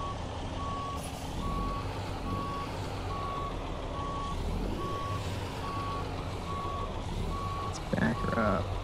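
A semi truck with a log trailer backs up in American Truck Simulator, its reversing beeper pulsing in an evenly spaced series over a steady diesel engine rumble. An air brake hisses briefly near the end.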